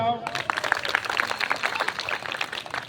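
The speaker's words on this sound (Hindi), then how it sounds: "ताली बजाओ।" Audience clapping at a school gathering: a dense, mid-loud patter of many hands runs for about three seconds, with voices mixed in under it.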